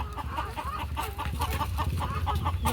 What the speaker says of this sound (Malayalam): കോഴികൾ വെക്കുന്നുണ്ട്.